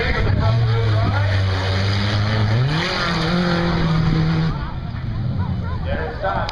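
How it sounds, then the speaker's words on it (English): Race car engine at a figure-eight event at a motorsports park bouncing off the rev limiter, a loud steady buzzing drone that stutters and shifts pitch midway, then drops lower, with an announcer talking over it throughout. "They call that a rev limiter."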